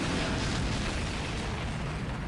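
Gunfire and explosions in the video game Star Trek: Voyager – Elite Force, a dense, loud, continuous roar of blasts and booms with no clear gaps between them.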